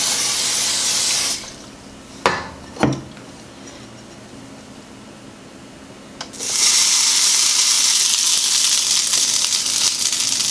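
Non-stick cooking spray hisses onto a waffle maker in two close bursts, a short one at first and a longer one later, with a couple of sharp clicks in the quiet gap between.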